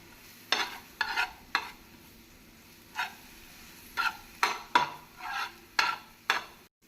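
Ginger garlic paste stirred and fried in a pan, about a dozen short scraping strokes of a spoon in an uneven rhythm with a quiet sizzle between them, close and fairly clear, no talking.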